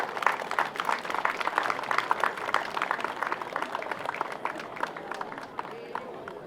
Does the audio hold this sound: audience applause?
yes